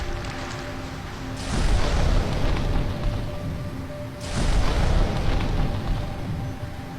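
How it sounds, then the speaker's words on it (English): A volcano erupting on an island, heard from sea, gives a heavy, rumbling roar in two long surges that swell over a constant noisy background, distant yet loud and broadband, without any talking. "A fisherman at sea accidentally witnessed a volcano erupting on an island."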